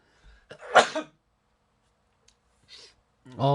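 A single sharp cough up close, with a short breath before it and a brief voice starting at the end.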